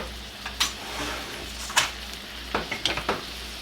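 Chipotle steak bites sizzle in a pan as a spoon stirs them, making a steady soft frying hiss broken by several sharp metallic scrapes and clinks of the spoon against the pan.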